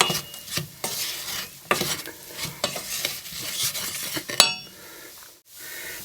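Flour being stirred and cooked out in a pan for a pasta bake sauce, with repeated scraping strokes of a utensil against the pan over a soft sizzle, ending in a brief clink and quiet.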